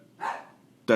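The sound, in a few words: dog barking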